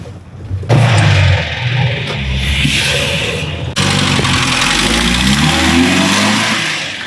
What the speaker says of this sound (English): Yet another Lada ride, my friend.